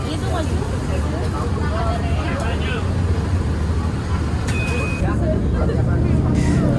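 Inside a moving Transjakarta bus on route 1A: a constant engine rumble and road noise fill the cabin, with a short electronic beep and a voice heard under the drone.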